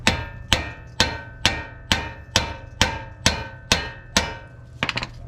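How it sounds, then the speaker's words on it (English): A hammer taps a CV axle to break its seal from the hub on a Lexus GX470. About ten sharp, ringing metal strikes fall at an even pace, ending with a quick cluster of lighter taps. "You can break the seal between the CV axle and the hub. Just tap it."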